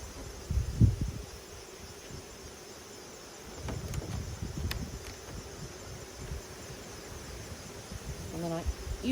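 Honeybees around an open hive during a late-season honey harvest, with smoke used to calm them, make a soft, steady insect drone that stays faint beneath outdoor rustling and a few close handling bumps.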